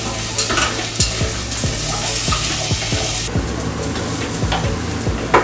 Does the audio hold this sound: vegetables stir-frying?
yes